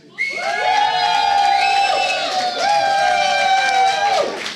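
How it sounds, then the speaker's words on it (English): A large esports crowd at IEM Cologne erupts into loud cheering and whooping that starts abruptly and holds strong for several seconds before cutting off. "And the crowd erupts."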